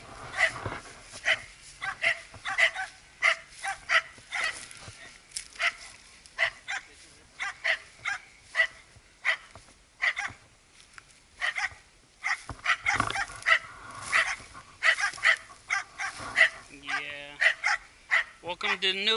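Dogs barking on a golf course green, repeated sharp barks and yips in an irregular rhythm throughout, fairly close, with some whimpering toward the end.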